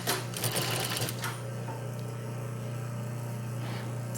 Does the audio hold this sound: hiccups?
no